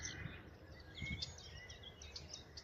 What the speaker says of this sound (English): Nightingale.